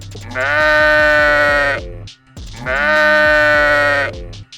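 A sheep bleats twice in a story, each call a long, loud, quavering baa lasting nearly two seconds, separated by a short pause and heard alone.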